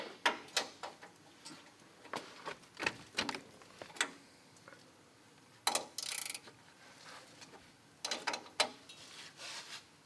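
Hand tools work on the shock absorber top nuts of a Toyota during a budget lift kit install, giving scattered metallic clicks and ratcheting bursts with short pauses between them.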